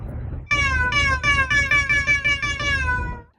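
A cat meows repeatedly and loudly, about seven drawn-out, slightly descending cries in quick succession, close by and with no other sounds.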